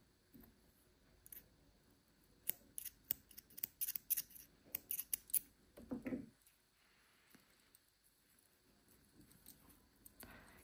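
Scissors snip through two strands of glittery metallic yarn at the end of a crocheted drawstring bag, a quick run of sharp close clicks and cuts with light handling rustle around them.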